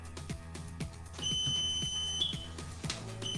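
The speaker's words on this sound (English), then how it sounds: "The alarm will sound in your train car and the operator's car." Emergency alarm inside a Toronto subway train car, heard as a steady electronic tone with beeping pulses over rhythmic low clatter from the moving train, continuous for a few seconds.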